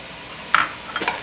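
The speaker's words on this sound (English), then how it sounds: "We're adding the garlic, quite a lot." Garlic dropped into a hot pan and stirred, giving a brief scrape and sizzle burst midway and another short rustle near the end over a steady frying hiss.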